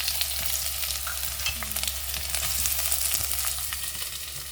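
Tomato frying in hot cooking oil with leaves makes a constant steady sizzle, and faint occasional stirring clicks come from the pan, with no voices.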